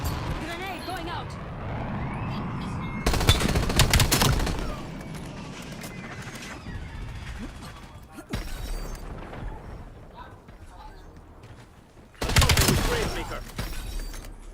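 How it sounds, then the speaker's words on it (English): Loud bursts of in-game explosions and gunfire in a first-person shooter game after a grenade is thrown, three heavy blasts separated by stretches of rumbling battle noise, with a voice speaking over the action. "Grenade going out!"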